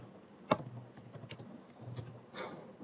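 A command typed on a computer keyboard: a handful of soft, close keystrokes, one sharp louder tap early on, then scattered light clicks in a quiet room.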